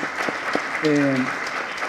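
Audience applause at a human rights month launch event, a short burst of steady clapping from a crowd with a brief voice rising over it in the middle.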